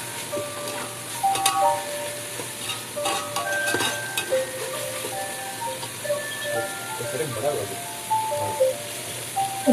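Ghee sizzles in a pot of chicken tikka dum biryani while it is stirred, giving a steady frying hiss with scattered pops and utensil clinks throughout.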